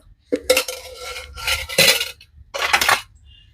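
A metal pan clanks onto a stove, then a ladle scrapes and clinks against it as a small scoop of oil goes in for mint rice, three separate bursts of close metallic clatter with no talking.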